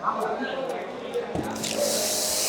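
A bike and car washer nozzle sprays soap foam with a hissing, squishy spray that grows steadier toward the end while someone talks over it.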